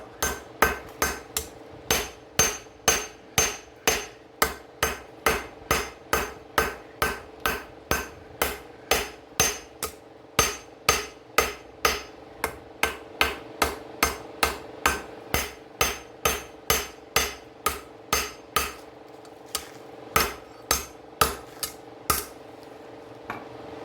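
A hammer strikes steel on an anvil in a steady, rapid rhythm, dozens of sharp ringing blows evenly spaced, with no voices.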